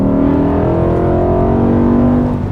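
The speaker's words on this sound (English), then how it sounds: "Listen to that perfect downshifter rev match" A BMW E39 M5 with its V10 engine snaps through a rev-matched downshift, a loud, close blip of revs that climbs and holds before easing down, heard from inside the cabin.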